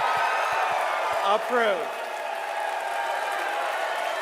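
Crowd at a Tesla shareholder meeting cheering and applauding as Elon Musk's 2025 CEO performance award is approved; a steady, loud roar of cheers and clapping persists throughout, with a voice speaking over it at the start.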